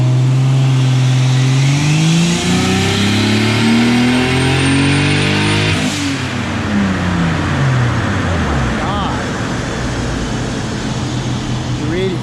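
A turbocharged 3.0-litre BMW M52 engine in an E30 revs up hard through the gears, rising in pitch, with a loud close roar and an abrupt gear change midway.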